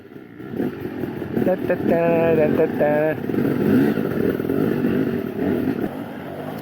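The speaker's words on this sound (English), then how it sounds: "Everybody driving somebody else's bike." A dirt bike rides around the Kahuku motocross track, its engine droning and rising in pitch as it revs, loud and fairly close, with voices talking over it.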